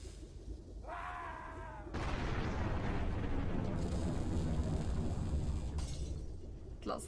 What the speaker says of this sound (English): Lots of different explosions in here.